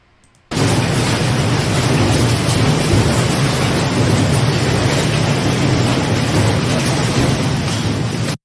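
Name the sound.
thunderstorm with thunder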